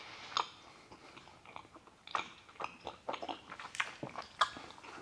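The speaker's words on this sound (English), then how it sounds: "Okay, it's very rough. Not having the best time chewing it." Rough, tough gummy candy being chewed close to the mic, with irregular soft squelching bites and a few sharper crunchy clicks over about five seconds, no talking.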